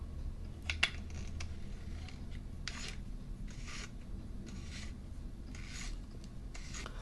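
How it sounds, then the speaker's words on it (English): A metal screw cap is twisted onto the barrel of an airsoft Uzi, giving faint, close scraping and rasping turns in intermittent short strokes over a low background hum, with no talk. "What you want to do is push and start screwing it back on."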